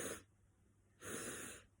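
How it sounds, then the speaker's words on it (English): Two deep breaths drawn in through the nose, close and soft, each a sustained airy rush separated by a brief pause. "So it's deep breaths."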